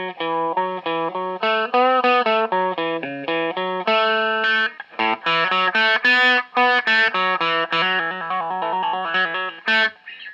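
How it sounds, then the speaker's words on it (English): A heavily distorted fuzz guitar through an MXR Classic 108 Mini Fuzz, buffer switch off, plays a quick run of notes with a sweeping wah filter, loud and close, with short gaps between phrases. "let's hear what it sounds like with a wah, with and without the buffer switch"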